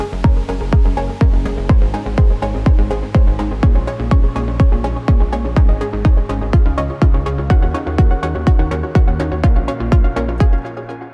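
Electronic music with a punchy kick drum hitting a steady beat and deep bass underneath, loud and continuous throughout.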